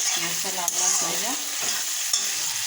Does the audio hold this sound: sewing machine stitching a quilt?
no